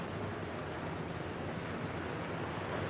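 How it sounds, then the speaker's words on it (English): Heavy wind gusts blowing storm surge water at Wrightsville Beach, North Carolina, during Hurricane Ian, a dense, constant roar of wind and surf filling the microphone with noise and no pauses. "Just very heavy wind right in that area where it's blowing the water."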